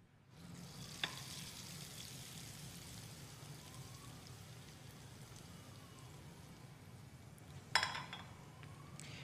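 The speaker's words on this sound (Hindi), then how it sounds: "और इसके ऊपर लगाएंगे अब हम तड़का।" Steady hot-oil sizzle of a tadka tempering poured over mash daal, a constant crackling hiss with two brief sharp pops standing out, no voices.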